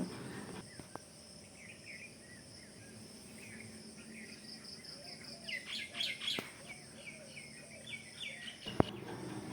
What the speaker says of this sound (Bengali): কিচিরমিচির ডাক শুনে একদম মনটা ভরে গেল